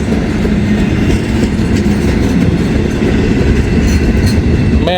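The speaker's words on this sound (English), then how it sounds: "you can see the grain train still going around the bend there" A long grain train rolls past on the railway, a loud, steady rumble of wagons with rhythmic clickety-clack of wheels over rail joints, close and continuous throughout.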